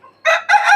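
A chicken on a Fayoumi poultry farm crows loudly and close by in a brief two-part call, preceded by a faint low cluck.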